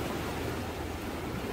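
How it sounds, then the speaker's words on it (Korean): Ocean waves wash against a breakwater at a fishing spot, making a steady, broad hiss and rush with wind noise throughout and no voices. "파도는 어제보다 많이 줄어들었습니다"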